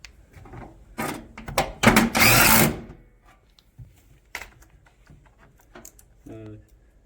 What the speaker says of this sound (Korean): 위쪽 나사를 먼저 체결해 줍니다